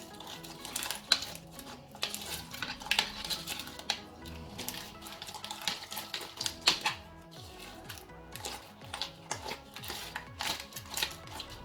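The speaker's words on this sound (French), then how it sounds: "il faut bien mélanger." Slime, made from a recipe that includes grass, is stirred in a bowl, making irregular bursts of sticky clicking and squelching pops close up, with brief pauses between flurries and no talking.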